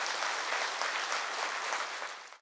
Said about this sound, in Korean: 우리 격려의 박수 한번 부탁드리겠습니다.